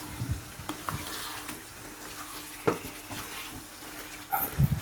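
Ash gourd pieces sizzle steadily in a hot pan of green curry while a utensil stirs and scrapes, with occasional knocks against the metal and a few louder clatters near the end.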